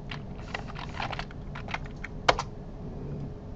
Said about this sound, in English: You can select your button by hitting the tab key and then hitting enter on it.